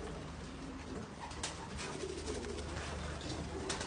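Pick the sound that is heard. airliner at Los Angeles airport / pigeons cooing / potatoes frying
pigeons cooing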